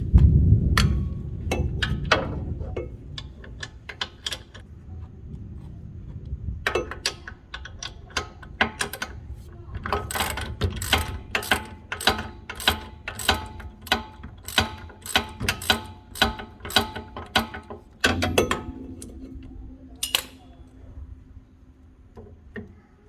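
Ratchet wrench on a flexible extension backing a bolt out of a Ford rear wheel bearing assembly, heard as long runs of fast, sharp, evenly spaced clicks up close, pausing between bursts, with metallic handling noise and no talk.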